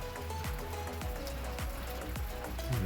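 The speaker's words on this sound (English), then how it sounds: "we're getting a nice soaking rain, slow, easy rain, and it's not cold." Gentle, soaking garden rain keeps up a steady hiss of drops, with scattered distinct drips landing close by over the even wash of falling water; no voices.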